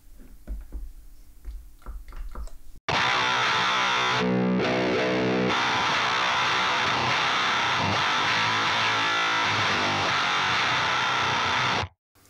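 A Boss HM-2 distortion pedal in a faulty, bad-sounding state: a loud, dense wall of harsh distorted guitar tone fills nearly ten seconds after a soft lead-in, with a brief dip midway before cutting off abruptly.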